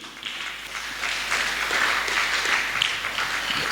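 A church congregation applauds to acclaim the Lord Jesus, a steady wash of many hands clapping that builds slightly and holds throughout, fairly close and with no voices.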